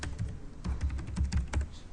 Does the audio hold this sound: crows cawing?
no